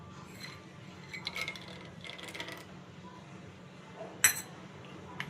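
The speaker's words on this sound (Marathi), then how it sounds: "त्याच्यामध्ये आपण टाकूया आता हे शेंगदाणे पॅन मध्ये" Peanuts are tipped into a pan, giving a few light rattling clinks followed by one sharper clatter, fairly quiet over a low background hum.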